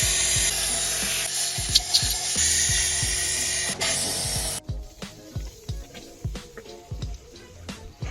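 Liquid splashes and gurgles as it is poured into an old world-record car, a continuous rushing spray for about four seconds that gives way to scattered drips, knocks and small splashes.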